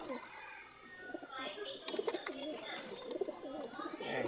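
Racing pigeons coo repeatedly in a loft, soft rolling calls close by, while someone talks over them.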